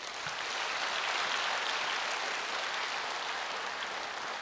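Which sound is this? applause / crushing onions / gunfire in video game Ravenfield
applause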